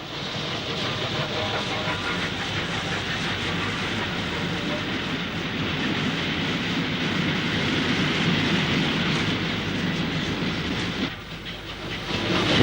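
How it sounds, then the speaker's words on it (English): A 1958 LMS Black 5 steam locomotive hauls a train toward Crewe on the down fast line, a sustained rumble and hiss with rolling wheel clatter that holds steady before briefly dipping near the end. "A Black 5 460 heads for Crewe along the down fast."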